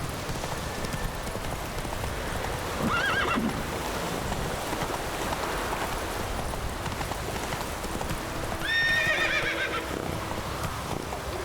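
Roach, a horse in The Witcher 3, gallops with steady, continuous hoofbeats, and two clear whinnies rise above them, one early and one near the end.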